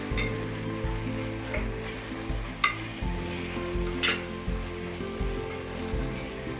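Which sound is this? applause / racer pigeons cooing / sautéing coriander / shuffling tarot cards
sautéing coriander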